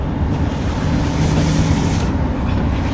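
Steady loud drone of a 2.2 HDI 120 hp van engine with its turbo running, a continuous low rumble and broadband whoosh that stays even and close for the whole stretch.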